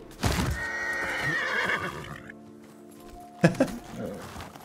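A horse in the video game Ghost of Tsushima whinnies loudly in a long, wavering neigh, followed by a pause and a couple of sharp hoof clops.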